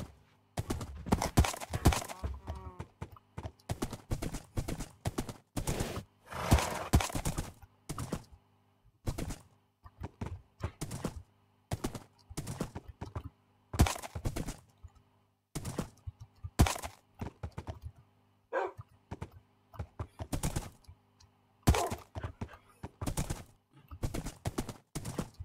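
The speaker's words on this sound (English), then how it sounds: "Why there's so many horses everywhere?" Horses in the Minecraft video game clip-clopping in a busy, irregular patter of hooves, with occasional whinnies among steady game thumps, fairly close and with no talking.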